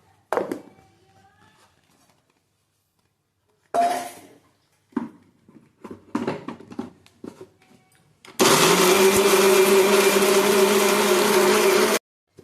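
A few scattered clatters and knocks, then a loud, steady whirring roar of a mixer grinder grinding spices with turmeric powder for sardine curry, running for several seconds before stopping abruptly.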